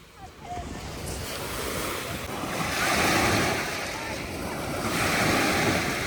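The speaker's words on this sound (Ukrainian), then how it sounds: "Ці хвилі для вас." Waves from Lake Michigan wash steadily onto a shore in a broad, rushing swell, mixed with gusty wind noise, continuous and moderately loud.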